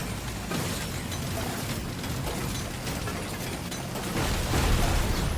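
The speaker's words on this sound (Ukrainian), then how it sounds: "Щось вибухають." Dense, rumbling explosions and rattling bursts from the video game Deep Rock Galactic Survivor pile up continuously, loud and crowded, swelling heavier toward the end with no talk over them.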